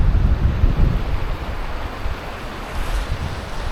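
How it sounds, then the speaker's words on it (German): Strong mountain wind roars and buffets the microphone in low, uneven gusts, with a rushing, surf-like wash behind it and no voices, at a stony campsite on the GR11 trail in the Pyrenees. "Es ist sehr windig"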